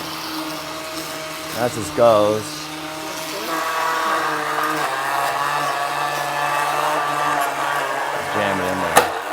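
A kitchen blender whirs steadily while blending fruit for homemade fruit leather, a continuous motor drone running through most of the stretch at moderate loudness, with people talking over it.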